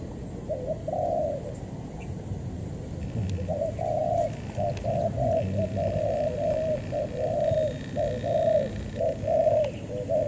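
Doves cooing during a dove hunt outdoors, a repeated series of soft, low coos in a steady rhythm over about ten seconds, with faint background noise and no talk.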